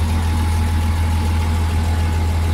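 A Komatsu D85E SS bulldozer's diesel engine idles steadily just after starting, a loud, constant low rumble with a deep hum and no change in pace.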